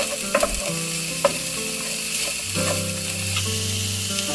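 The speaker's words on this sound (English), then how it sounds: "Now we'll add the mushrooms and allow them to cook for about a minute. Then add the carrots and allow them to soften a little bit." Mushrooms and carrots sizzle steadily in a hot pan, a constant close frying hiss broken by a few sharp clinks and scrapes of a utensil stirring.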